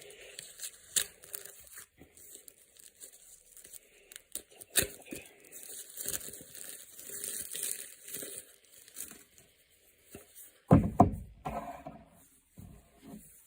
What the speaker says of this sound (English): I've got to take it out of this package because this is actually brand new.